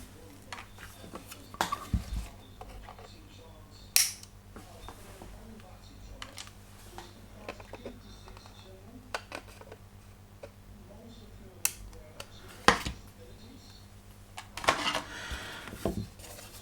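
Thick plastic sprue gates trimmed off parts of a 22-inch Eagle 1 model kit from Space 1999, with sharp isolated snips and clicks at intervals over a quiet background and faint talking.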